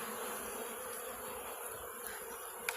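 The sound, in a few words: honey bees buzzing at the hive while being fed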